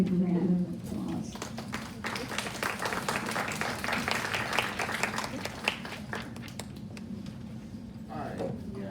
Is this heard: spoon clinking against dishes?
no